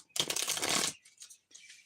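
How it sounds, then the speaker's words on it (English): Tarot cards shuffled by hand, one dense riffling burst lasting under a second followed by a couple of lighter, brief card flutters, close and fairly quiet. "now I am going to shuffle just a minute"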